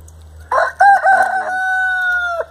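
A chicken lets out one loud, close, drawn-out call lasting nearly two seconds, rising sharply and then holding a steady tone before cutting off, with no talk over it.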